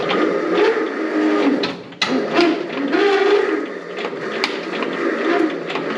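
An antique tractor engine is cranked with a belt starter at a tractor show, giving a steady, loud mechanical whirring churn with a brief clunk midway that never catches into running.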